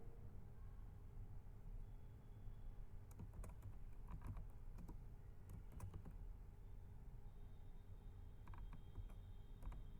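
Keys clatter on a computer keyboard in quiet, irregular bursts during a basic typing lesson, close and fairly soft over a low background hum, with no voices.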